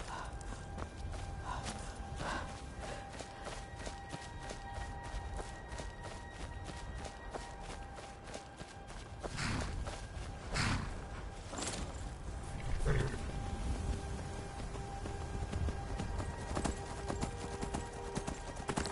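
Horse hooves clip-clop in Skyrim, a steady walking rhythm of hoofbeats drawing nearer over a constant ambient game background with occasional louder thuds, no talk.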